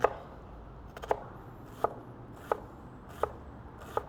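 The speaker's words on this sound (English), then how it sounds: "So I'm gonna cut these onions down small because sometimes my kids complain if the onions are too big." A knife chops a yellow onion into small dice on a board, with about seven sharp, evenly spaced knocks, close and clear over quiet background.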